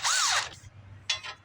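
A power tool backs out 5/8 bolts on a John Deere 310G backhoe during a thermostat replacement, giving a short high whirring burst that rises and falls, then a second brief burst after a pause, close and clear.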